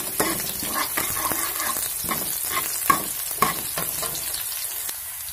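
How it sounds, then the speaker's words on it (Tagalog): Garlic sautéing in a pan, a steady close sizzle broken by repeated stirring scrapes and a couple of sharper utensil clicks, with no one talking. "At sulugin natin yung ating bawang"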